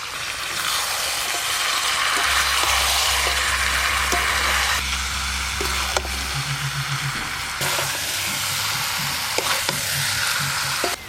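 Chicken being stir-fried village-style as kosha with chili paste, cumin, coriander and turmeric in a pan, a steady loud sizzle with occasional stirring scrapes and clinks, no talking.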